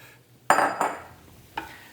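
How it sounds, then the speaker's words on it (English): Sliced white mushrooms drop into a pan of cooking onions and olive oil, giving a sudden close clatter and sizzle, a second scrape soon after, then a brief stir toward the end. "We're adding our white sliced mushrooms."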